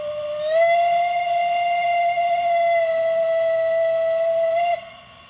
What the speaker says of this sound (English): F4 is the long whistle.